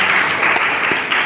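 A church congregation at a Sunday service claps loudly together in a dense, steady burst of applause that lasts only a moment.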